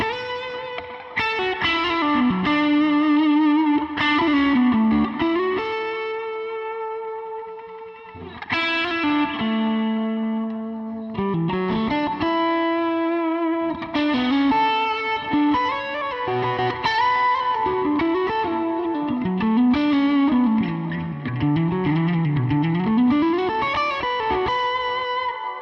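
A distorted electric guitar runs through a budget pedal board with tap delay and reverb, playing sustained chords and bending melodic lines loudly and alone, with echoes trailing each phrase.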